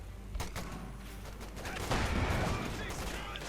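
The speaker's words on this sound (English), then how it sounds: "Stuart firing away there as well." Bursts of battle fire from a Stuart tank and infantry in the video game Company of Heroes 2, moderately loud, with repeated shots and a heavier volley midway under a commentator's voice.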